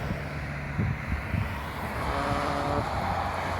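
Steady vehicle traffic on a highway beside Island Lake roars as a continuous broadband rush, with wind noise buffeting the microphone and a passing vehicle swelling slightly toward the end.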